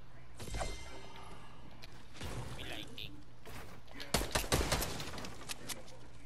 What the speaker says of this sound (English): I'm using the LMG.